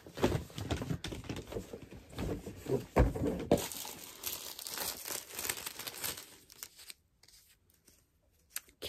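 A small Chanel paper shopping bag is crinkled and handled up close, with dense rustling and crackling that runs for several seconds before tapering off into near silence and a few light taps.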